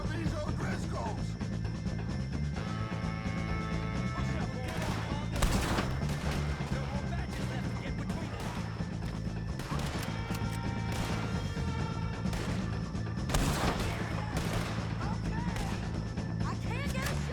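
Gunfire from a Red Dead Redemption 2 shootout against O'Driscoll gang members, with loud sharp bursts of shots around five and thirteen seconds over constant game music and ambience, and voices shouting in between.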